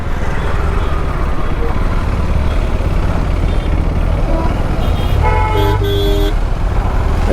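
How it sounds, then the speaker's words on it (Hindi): Steady rumble of a jammed highway with idling cars, trucks and bikes up close, and a couple of loud horn toots sounding near the end over the continuous traffic noise. "गंदा ट्रैफिक लगा पड़ा है,"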